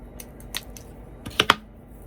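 Scissors snipping dried Sweet Annie stems, a few quiet crisp cuts and rustles, with two sharper crunching snips close together near the end.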